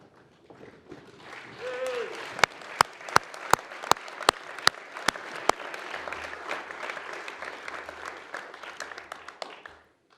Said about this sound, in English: Polite applause, thank you.